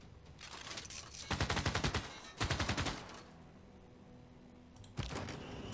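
Bursts of automatic gunfire from units in the Civilization VI strategy game, two rapid rattling volleys back to back followed by a sharper later shot, fairly quiet and heard alone without speech.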